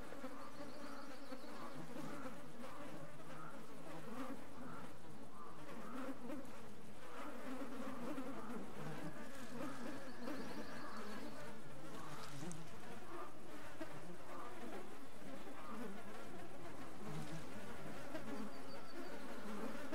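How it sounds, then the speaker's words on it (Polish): Flies buzz steadily and faintly in the video game Russian Fishing 4 during float fishing for bream, a continuous insect drone with occasional closer passes, no talking. "Te muchy się zleciały."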